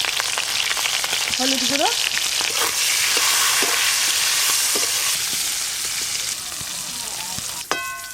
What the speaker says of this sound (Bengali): ইলিশ মাছের মাথাগুলো একটু ভালো করে ভেজে নেব